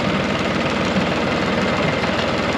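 A tractor engine runs steadily with its power take-off engaged, a loud, continuous low rumble with a rapid, even chug and no breaks or talk.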